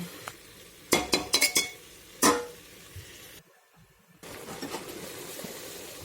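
A metal pot lid clanks onto a cooking pan of dek fish curry, several sharp clinks in quick succession, then a louder clatter, followed by a muffled hush and a steady simmering hiss.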